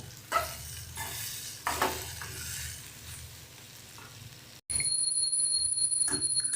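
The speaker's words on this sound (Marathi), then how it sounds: "एकत्र आता सगळं परतून घ्यायचं आहे" Okra stir-fried with green chilli and red chilli powder, scraping stirs over a soft sizzle; after a brief cut a louder, steady frying hiss takes over with faint tonal ringing.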